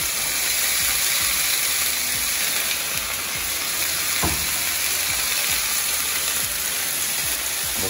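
Meat seasoned with steak spice sizzles and fries loudly in a hot pan, a dense crackling hiss that holds steady throughout, with one brief sharper pop midway; no talking.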